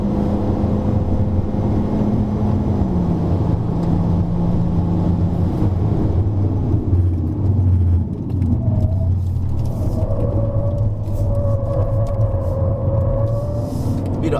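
A Honda Civic RS lapping Sepang circuit, its engine a steady loud drone that rises and shifts in pitch under acceleration, with road and wind rumble throughout and a brief faint voice.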